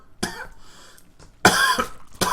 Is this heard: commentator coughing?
yes